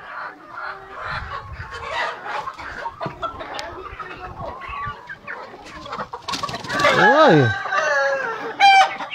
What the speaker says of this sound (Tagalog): Excuse lang mga manok.